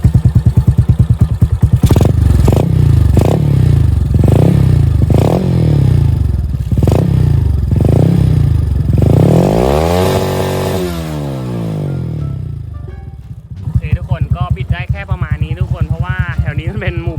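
A 125cc motorcycle with an aftermarket slotted-pipe exhaust and mesh revs repeatedly in sharp bursts up close, then settles into a rough, steady idle with a few blips, loud throughout.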